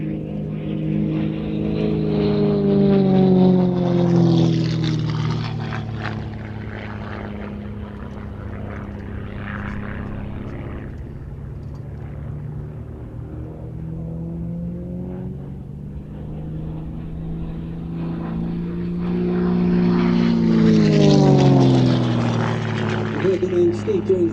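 Gamebird aerobatic propeller aircraft performing climbs and rolls at the Sywell airshow, its engine droning loud and steady with rising and falling pitch as it passes, swelling near the start and again toward the end, with a commentator talking over it.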